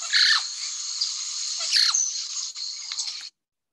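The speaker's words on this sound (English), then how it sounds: "Here's what the magpie jay sounds like." Magpie jay calling in Costa Rica, a loud close run of shrill squeaky, squealing notes with sharp scratchy accents, lasting about three seconds before stopping abruptly.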